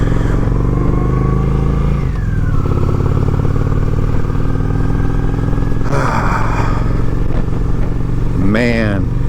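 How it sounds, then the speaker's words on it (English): Honda Shadow 750 ACE motorcycle engine running after a choked cold start in chilly weather, a steady loud close rumble that shifts pitch as the revs drop, with a person talking over it. "it's been a while since I started the bike"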